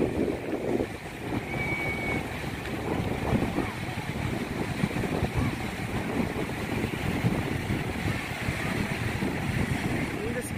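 Small, gentle sea waves wash steadily on Itanhaém beach on the south coast of São Paulo, with continuous surf and wind noise.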